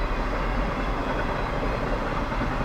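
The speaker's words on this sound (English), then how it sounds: "A giant intermodal van train." A long CSX intermodal freight train rolls past close by, a loud continuous rumble and clatter of wheels on rails with deep low-end roar, steady throughout.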